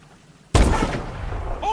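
Gunfire erupts in the futuristic shooter Call of Duty Advanced Warfare, a sudden loud blast followed by a dense, sustained roar of shots and battle noise that stays loud through the clip.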